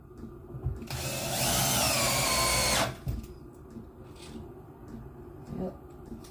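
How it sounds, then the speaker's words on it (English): A power drill drives deck screws, a single loud whirring burst of about two seconds that winds down, with quieter handling noise and faint background sound after it. "Couple more screws, and this is a good way to kill a box of deck screws."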